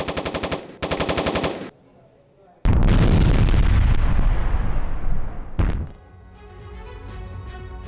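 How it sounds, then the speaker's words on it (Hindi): Battlefield gunfire and shelling during fighting in the Kursk region: rapid bursts of automatic fire, then a loud booming blast that rumbles and decays, and a second sharp crack before a lower rumbling tail. "यूक्रेन की गोलाबारी"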